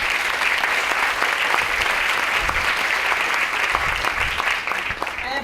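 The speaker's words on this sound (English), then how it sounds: "So another round of applause for our mayor." Sustained audience applause fills a community anniversary event for an early-childhood education center in Washington, D.C., a steady dense clatter of many hands that holds loud throughout and eases slightly at the very end, with some crowd murmur underneath.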